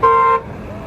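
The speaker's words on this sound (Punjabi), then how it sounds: "ਇਸ ਵੇਲੇ ਟਰੱਕ ਆ ਰਹੇ ਨੇ ਔਰ ਹਾਰਨ ਦੇ ਕੇ ਆਪਣੀ ਹਾਜ਼ਰੀ ਲਵਾ ਰਹੇ ਨੇ" A truck's horn blares loud and steady for about a third of a second at an Australian sheep farmers' rally, then cuts off, leaving a low rumble of traffic and engines.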